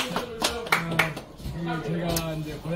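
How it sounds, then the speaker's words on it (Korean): Scattered handclaps from a small audience at a year-end party rise briefly under ongoing talk and chatter, a few sharp claps standing out in a loose, uneven rhythm. "박수. 네, 박수."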